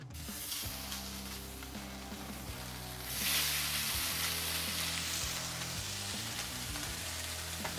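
Meat frying in canola oil in a pan on medium-high heat, a steady loud sizzle throughout that swells brighter partway through as the frying intensifies, with no talk.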